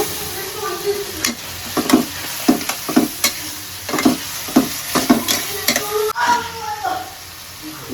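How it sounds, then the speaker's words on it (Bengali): Prawns going into a fried spice paste in a pan, giving a steady sizzle broken by regular scraping strokes of a spatula, close and clear, with brief voices in the background. "মশলাটা কষানো হয়ে গেছে, চিংড়ি মাছটা দিয়ে দিব।"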